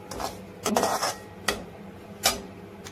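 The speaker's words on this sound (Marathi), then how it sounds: "एकसारखा हलवत राहायचं म्हणजे रवा एकसारखा छान भाजतो।" A spoon stirs semolina roasting in ghee in a pan, making a few sharp scraping clinks at uneven intervals, close and fairly quiet, with no talking.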